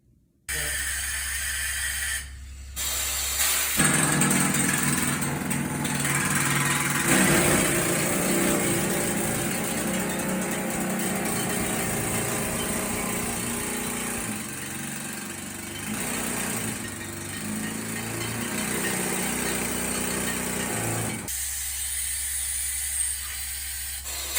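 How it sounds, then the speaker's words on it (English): A special bolt driver drives a rock bolt into a hole in a mine's rock face, a loud, harsh mechanical roar with hissing and ratcheting that runs for about twenty seconds between brief quieter pauses. "we use a special bolt driver to install the bolt"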